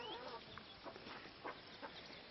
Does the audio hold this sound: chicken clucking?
yes